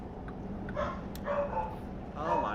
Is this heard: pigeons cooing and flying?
no